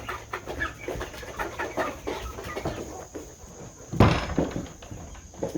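Roosters and hens, meat chickens and layers, cluck and mutter continuously nearby, with scuffling steps and one louder squawk partway through.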